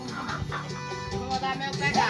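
Chickens cluck and chatter nearby on a farm in uneven bursts, with a higher rooster call near the end and faint background noise.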